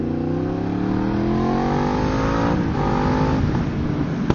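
A Yamaha MT-10 motorcycle engine revs hard in fourth gear toward 8000 rpm, a loud close whine rising steadily in pitch, dipping briefly at a shift and then climbing again.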